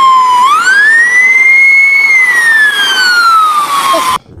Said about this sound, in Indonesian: Kita menemukan ambulan, Roman.